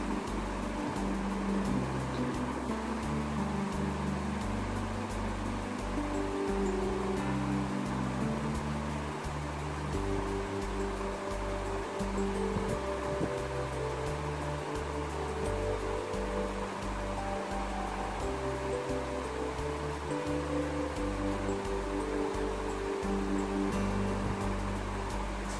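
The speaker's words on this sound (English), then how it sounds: "Now saute it for at least 2 to 3 minutes." Mutton pieces and spices sautéing in a pan for a simple Indian mutton curry (mangsher jhol) give a steady, even sizzle with low, irregular bubbling pulses, close and continuous throughout, with no talking.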